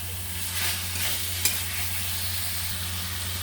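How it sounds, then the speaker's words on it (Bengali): Cauliflower and potatoes being stirred as they fry in a pan for a katla fish curry, a constant close sizzle with soft scraping strokes and one sharp clink of the utensil partway through. "এবার কপিটা, আলুটা আমি নেড়ে করে নেব।"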